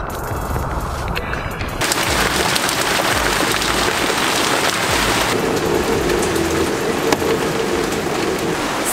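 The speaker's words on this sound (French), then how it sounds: "C'est pas un petit orage." Heavy rain pounds hard on a sailboat during a thunderstorm on Lake Champlain, a dense, loud and continuous roar that swells after a quieter opening, with occasional sharper knocks and rumbles.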